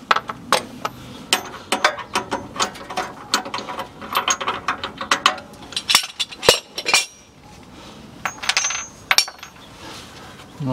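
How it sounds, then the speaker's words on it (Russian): A wrench unscrews the nut on a Land Rover Defender rear shock absorber, giving rapid ratcheting clicks and metallic clinks in irregular bursts, close and fairly loud, with a brief pause near the end before more clicking. "и откручиваю гайку"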